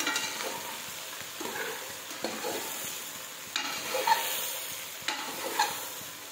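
Ridge gourd (gilki) and chana dal stirred in a hot pan with a spatula, steady soft sizzling and frying under repeated scraping strokes that come every second or so, close and alone with no voices.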